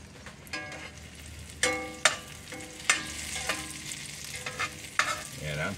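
A thick slice of bologna frying in butter in a pan, pushed across it, giving a steady close sizzle broken by several sharp scrapes and clicks, with no talk.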